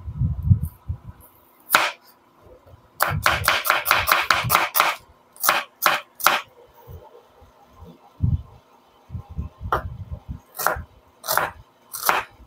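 A knife chops onion on a cutting board in quick bursts of sharp, close taps, with pauses between runs and a few single strokes. No voices.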